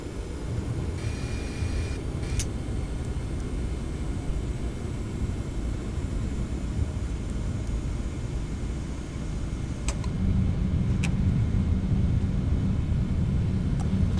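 A TFDI Design 717 airliner lands in the Prepar3D flight simulator, with a steady loud roaring engine rumble that grows heavier as reverse thrust kicks in, plus a few sharp clicks.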